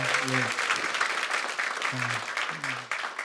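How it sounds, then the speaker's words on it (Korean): Church audience applauding a guest lecturer after a mission talk, a steady patter of many hands under a speaking voice that rises over it in short phrases. "다시 한번 감사의 박수 전달해 드리겠습니다"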